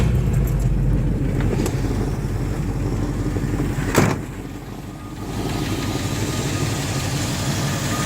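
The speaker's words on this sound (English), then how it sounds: "Okay, we got the engine running now," A 1962 Buick Electra engine idles with a steady, rumbling, mid-pitched hum; a brief knock sounds around the midpoint, and the idle then settles slightly quieter.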